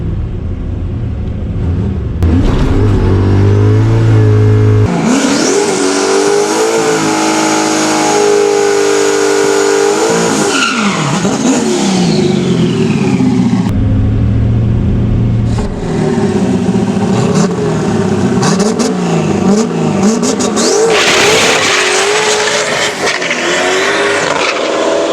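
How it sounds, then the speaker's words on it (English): A drag race car's engine revs loud and close across the lanes, surging through repeated climbs and drops in pitch with brief harsh bursts, and no talk over it. "Car's running really good, brakes working pretty good."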